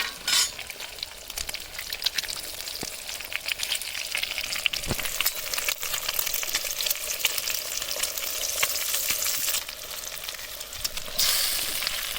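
Seven eggs crackle in hot oil in a pan as egg bhurji cooks, a continuous close sizzle with occasional light clinks of a utensil stirring, and no talking.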